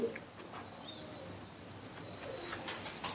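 Pigeons cooing softly with short throaty calls scattered across a few seconds, moderately distant over a low background hum.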